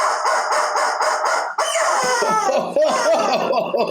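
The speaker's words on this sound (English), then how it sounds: "And the rubber chicken says" A rubber chicken toy squawks in a string of short, rhythmic honks, then breaks into a longer, wavering shriek with rising and falling pitch, loud and close with no talking.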